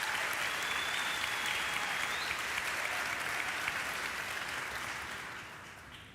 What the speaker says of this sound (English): you gotta let that applause sink in a little bit